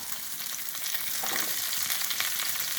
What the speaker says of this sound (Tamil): இதை நல்லா எண்ணெயிலே வதக்கிடணும்